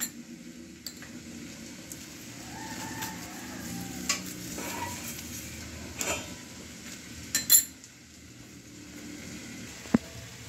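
A paratha cooking in ghee on a pan gives a steady soft sizzle with scraping and stirring clatter over it and a few sharper metallic taps, close by and continuous, with no speech.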